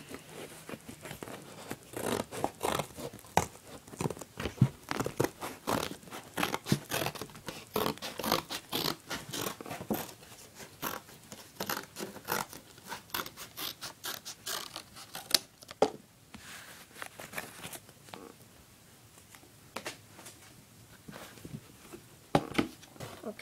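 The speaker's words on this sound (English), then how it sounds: "I'll cut the flaps." Scissors snipping small flaps from ramp material for a tech deck mega ramp, producing many quick, faint, close cutting clicks and rustles in an uneven rhythm.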